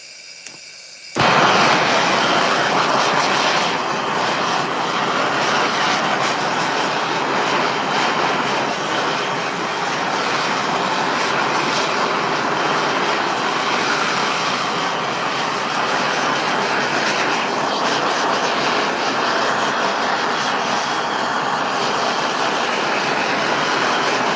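A torch roars against a chainsaw-carved wooden bird, bursting on suddenly and then holding a loud, steady, close hiss for the rest of the stretch.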